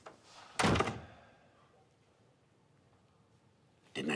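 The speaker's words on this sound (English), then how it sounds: "Shut the door, Brad." Door shut with a single solid thunk, followed by quiet room tone and then a second short knock-like bump at the end.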